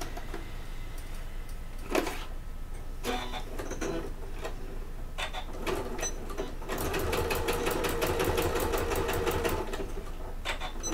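A sewing machine stitches in bursts, short runs of rapid mechanical ticking with pauses, then a longer steady run of fast stitching, sewing a quarter-inch seam at stitch length 2.4.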